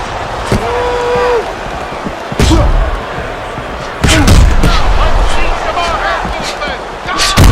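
Heavy punches land in a professional boxing match between two fighters: a few sharp thuds, the loudest near the middle and end, over steady arena crowd noise and a commentator talking.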